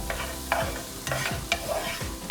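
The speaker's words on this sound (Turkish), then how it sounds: "Şimdi arkasından yeşil soğanlar, kuru soğanlar, güzelce karıştırıyoruz." Green and dry onions sautéing in olive oil are stirred in a pan, with a steady sizzle and several close scraping strokes of a spoon, no voices.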